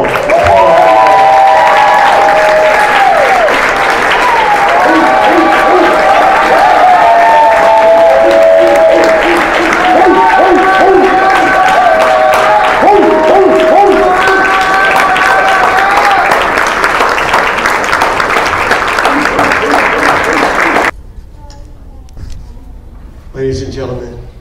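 A crowd at a library event greets a guest with loud, sustained applause and cheering over music for about twenty seconds, then it cuts off to near quiet with a few faint sounds.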